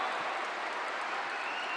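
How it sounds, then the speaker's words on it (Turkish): Crowd applause rings out at a Turkish women's volleyball league match, steady and continuous throughout after a spike by Yelena Alaybek, with no talk on top. "Alkışlar Yelena Alaybek için."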